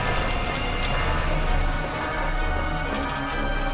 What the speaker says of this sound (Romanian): De ce plouă?